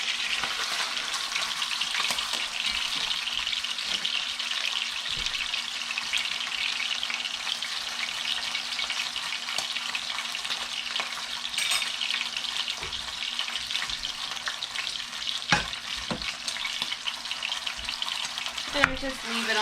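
Roast beef searing in hot pig butter in a pan gives a loud, steady, close sizzle that runs unbroken throughout, with a few small pops and crackles near the end.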